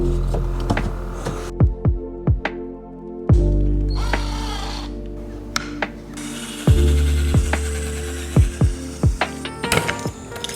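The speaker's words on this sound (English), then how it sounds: "put my pocket screws on the bottom here and screw it into this piece of wood" Power drill driving pocket screws into wood for a seat support in a Ford Transit van conversion: repeated short whirring bursts with clicks, close and fairly loud, separated by brief pauses.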